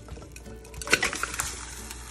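Curry goat is poured into a hot slow cooker, giving soft wet splashes and a few clinking pot and utensil knocks clustered in the middle, fairly quiet and close.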